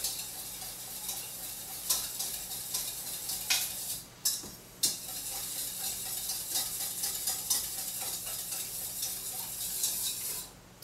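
Canned mushroom soup is stirred into water in a bowl with a spoon, giving fairly quiet repeated clinks and scrapes that pause briefly partway through.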